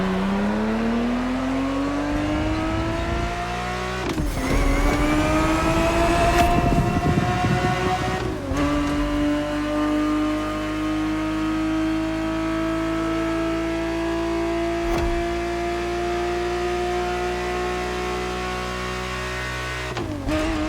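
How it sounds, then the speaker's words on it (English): A Ferrari 365 GTB4 from the 1970s revving in The Crew Motorfest racing game, its engine note climbing steadily through repeated gear changes with brief dips between pulls, loud and continuous throughout. "The Ferrari 365 GTB4 is the perfect vehicle for you to experience Ferrari racing as it felt back in the 70s"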